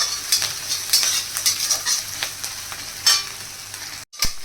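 Garlic and ginger frying with onions in a pan, a bright crackling sizzle with quick rhythmic stirring scrapes up close, cutting out briefly near the end before resuming.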